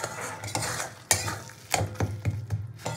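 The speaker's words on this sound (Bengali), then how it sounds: "এবার ভর্তাকে খুব ভালো করে নেড়ে চেড়ে এটাকে শুকাতে হবে" A fish bharta being stirred and turned in a pan to dry it out, giving scraping, clinking spatula strokes against the metal with a faint sizzle underneath, irregular and close, no talk.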